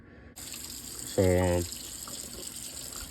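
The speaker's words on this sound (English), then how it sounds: "I like to kind of wash that slime off to start with before I get going." A tap runs with a continuous, moderately loud gush of water while a fish is rinsed to remove its slime, and a short burst of a voice cuts in partway through.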